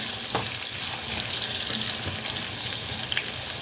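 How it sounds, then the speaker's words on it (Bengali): Potatoes sizzle steadily in hot oil, browning, a continuous crackling hiss with a few sharper pops and no one speaking. "আলুটাকে এখন আমি একটু লাল লাল করে ভাজবো"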